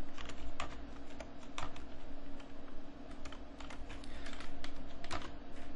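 Fingers tap out an IP address on a computer keyboard, a steady run of close, crisp keystrokes with a low electrical hum underneath.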